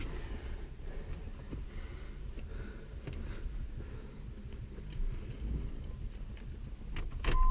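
Car keys for a 1993 Mazda MX-6 jangle and clink close by in short scattered bursts, fairly quiet, with a louder rattle near the end and no talking over them.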